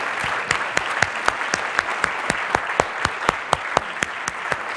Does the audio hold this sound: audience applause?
yes